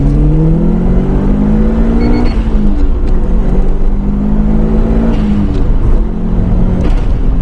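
A 2002 Subaru WRX STi GDB Prodrive Edition with boosted engine accelerates hard, its loud, steady engine note climbing smoothly without misfires, heard from inside the car.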